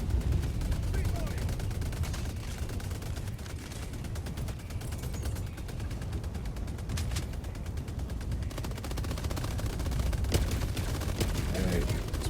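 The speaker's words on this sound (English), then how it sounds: "I'm gonna switch to the Scorcher to deal that high damage there." Scorcher weapon firing in Helldivers 2 during a battle against the Illuminate, a dense, continuous stream of loud gunfire-like blasts with game effects running the whole way through.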